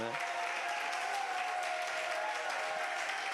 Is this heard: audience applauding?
yes